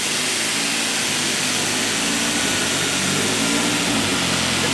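An engine roars loudly and continuously in a sustained high rev as a welded-up clutch disc sticks and the drivetrain will not disengage, a dense, harsh, unbroken blare close to the microphone.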